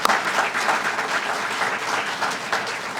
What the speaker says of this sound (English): So give Molina Healthcare of Illinois a round of applause